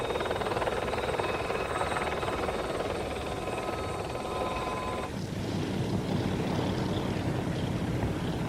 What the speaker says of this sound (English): the first of the helicopters this afternoon, the Gazelle from the Silver Eagles, that's the Army team